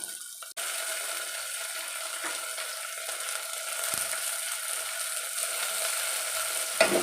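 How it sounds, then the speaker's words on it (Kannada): Chopped tomato drops into onions frying in a pan for North Karnataka–style uppittu: a sharp thump, then a steady, close sizzle that holds without pause. "ಇವಾಗ ಇವಾಗ ಟೊಮಾಟೊ ಹಾಕೋತೀನಿ"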